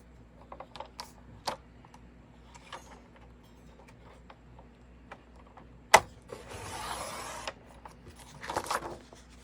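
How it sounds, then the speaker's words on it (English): Paper trimmer cutting a sheet of cardstock on a crafting table: scattered clicks and taps from handling, then a sharp snap followed by a brief rasping slide of the blade, close and fairly quiet with no talk. "Then I grab my paper trimmer"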